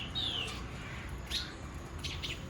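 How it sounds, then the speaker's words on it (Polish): Small birds chirping and squabbling in a palm tree in a Dominican beach town, with a few sharp high calls and short tweets over steady background ambience. "Każdego ranka i każdego wieczoru te ptaszki tak jakby walczą o miejsce w palmie."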